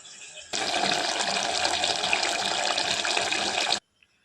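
Water gushes steadily into a cooking pot for about three seconds, starting abruptly and stopping cleanly, with quiet afterward.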